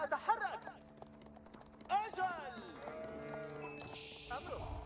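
Sheep bleat in Age of Empires 4, a few short bleats rising over faint game ambience and soft hoof clops, with other animal calls and game effects scattered through.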